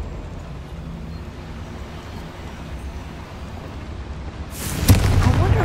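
A Confringo spell goes off in Hogwarts Legacy inside the goblin repository, a sudden loud blast that bursts in near the end after a stretch of low rumbling ambience.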